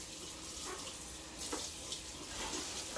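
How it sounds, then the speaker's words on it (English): Cold tap water runs steadily over collard greens being washed in a sink, a close, continuous splashing stream with small bursts of louder spatter. "Wash them in cold water, because they will. And they get nice and firm for you with that warm, with that cold water running on them."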